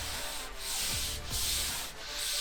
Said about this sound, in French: j'ai terminé ici le ponçage de la carrosserie